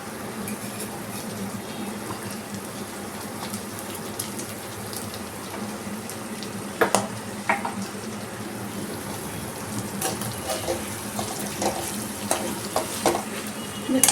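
Chicken and potatoes sizzling in a pan as sugar is stirred in, a constant frying hiss with occasional scraping strokes and light clinks from the stirring, close and steady throughout.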